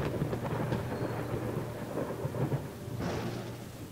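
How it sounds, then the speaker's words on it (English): A thunderstorm sound effect in an audiobook: heavy, steady rain roars with a deep rumbling undertone, and a brief harsher burst near the end suggests a thunder crack. "Violent rain battered against the hard, rocky ground"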